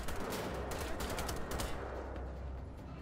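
Dense, loud automatic gunfire from Wolfenstein: The Old Blood, many overlapping shots crackling in quick succession, busiest in the first half and thinning into a rumbling tail.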